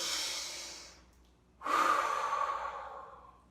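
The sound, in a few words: slow deep breathing in and out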